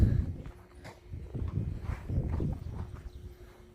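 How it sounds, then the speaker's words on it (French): A horse out on a ride clip-clops along, a few uneven hoof thuds close by at a walking pace, muffled and moderate in level, with faint ambient noise around. "Allez, petite balade à cheval aujourd'hui."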